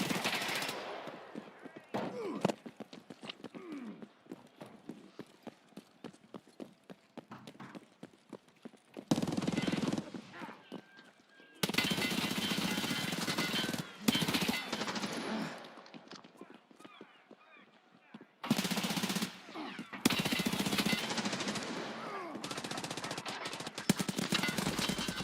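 Sporadic gunfire in Escape From Tarkov, with bursts and single shots scattered through a busy game soundscape, some loud and near and others more distant.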